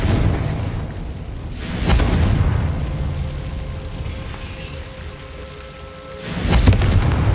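Confringo blasting spells in the Hogwarts Legacy video game, two deep rumbling booms about four seconds apart, each rolling off slowly over a low ambient bed.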